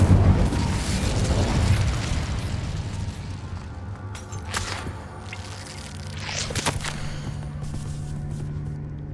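A loud, roaring burst of the Incendio fire spell from Hogwarts Legacy flares up at the start, then fades into a rumbling tail with a couple of smaller whooshing flare-ups.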